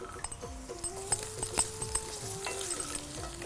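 Garam masala and coriander being stirred into onions in a pan, with a steady soft sizzle under repeated scraping strokes and a faint tonal hum from the kitchen.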